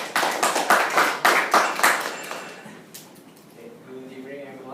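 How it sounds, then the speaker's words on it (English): Audience applause at a tax seminar, a burst of clapping from a small group that is strongest at first, then thins out and fades within a few seconds as a voice begins to speak. "please welcome with a warm round of applause our experts from MIM Consulting"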